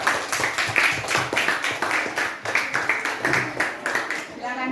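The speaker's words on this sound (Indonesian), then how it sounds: "Tepuk tangan untuk kelompok gas dan tekanan." Classroom applause for a student group, rapid, fairly close clapping from a roomful of hands that keeps a quick rhythm for several seconds before tapering off, with a voice briefly mixed in.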